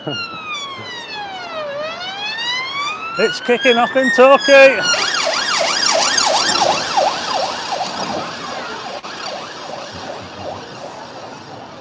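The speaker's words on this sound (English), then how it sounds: "I think I can hear another police car." Loud police siren sweeping up and down, shifting between wail and rapid yelp patterns as the police car passes nearby in Torquay, with someone speaking briefly over it.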